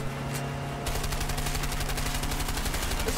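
Rapid automatic gunfire in the video game A Way Out bursts in after a short lull, then runs as a fast, steady, loud volley of shots over a low sustained musical drone.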